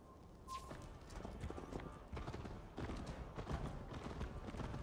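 Horse galloping in Assassin's Creed Valhalla, quick rhythmic hoof clip-clops on the ground running throughout at close range, with game dialogue and ambient noise underneath.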